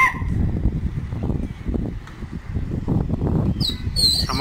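A tumbler pigeon flaps its wings among a flock of pigeons, giving a dense, fluttering whir of feathers that runs continuously and stays close, with a few brief high chirps near the end.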